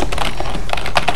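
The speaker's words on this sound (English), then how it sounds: "Now type in" Typing on a computer keyboard during Python coding, a quick run of close, crisp key clicks at an uneven pace over steady background hum.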